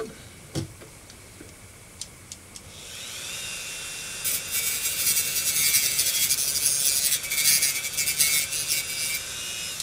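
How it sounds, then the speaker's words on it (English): A small rotary tool grinds the domes off tiny light bulbs for a 1/350 Star Trek TOS Enterprise model, starting with a few light clicks and taps before a high, whining grind that runs close and steady in spurts. "I want to grind each one of these bulbs"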